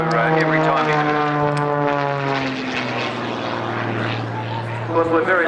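An Edge 540 aerobatic plane flies at the Tyabb airshow, its propeller engine a loud droning hum whose pitch slides downward as it passes nearby, with a commentator talking over it.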